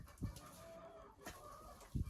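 A young rooster and hens cluck softly in a coop, a few short low clucks spaced out and fairly quiet against a faint background.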